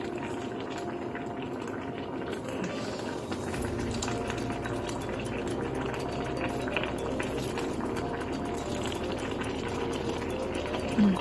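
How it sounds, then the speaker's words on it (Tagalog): Fresh tomato salsa sauce boils in a pot, a continuous close bubbling and gurgling that holds steady throughout with no talking. "ngayon kumukulo na, it's boiling"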